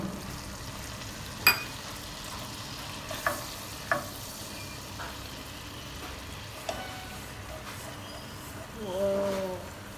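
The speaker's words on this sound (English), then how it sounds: "We have to keep cooking this for 2 minutes on low flame until the flour is slightly golden." Flour cooking in melted butter in a pan over a low flame, a faint steady sizzle broken by a few sharp scrapes and taps of stirring, quiet and close with no talk.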